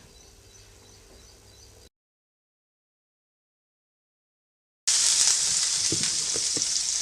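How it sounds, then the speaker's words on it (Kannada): Idli batter spread as a dosa on a hot pan, a steady close hiss of frying after a stretch of silence, with a few faint scraping taps beneath the sizzle. "ಅಂಚನ್ನ ಚೆನ್ನಾಗಿ ಕಾಯೋದಕ್ಕೆ ಇಟ್ಕೊಂಡ್ಬಿಟ್ಟು ಅದಕ್ಕೆ ನಾನು ದೋಸೆನ ಹಾಕ್ಕೊಳ್ತಾ ಇದ್ದೀನಿ"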